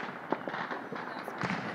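New Year fireworks burst outside a home, a quick scatter of sharp cracks and pops at moderate distance, several bangs overlapping within a couple of seconds.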